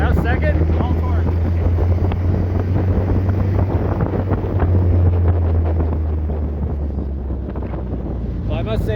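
A 1953 Willys CJ3 Jeep pulling away in second gear, its engine a low steady drone under heavy wind buffeting, with people chatting over the noise throughout.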